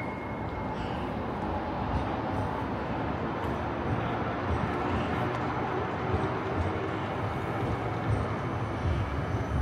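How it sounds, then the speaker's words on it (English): A tram rumbles past at steady volume for the whole stretch, a broad rolling roar with a faint high squeal of wheels on rails. "Here comes the squeaky tram."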